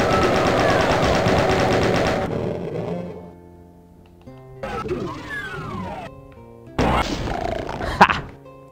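Rapid chaingun fire in Doom II rattles loudly for a couple of seconds, then scattered shots, monster growls and game effects follow in bursts.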